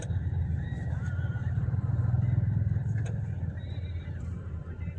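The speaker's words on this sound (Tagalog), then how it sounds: "Traffic." Road traffic runs steadily nearby with a low engine rumble throughout, as a vehicle drones past and faint horn-like tones and occasional clicks cut through the continuous noise.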